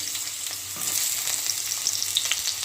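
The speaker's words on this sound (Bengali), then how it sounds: "এটাকে একটু লাল লাল করে ভেজে নেব।" Potato pieces fry in hot oil for fish curry, giving a steady close sizzle with light stirring and no voices.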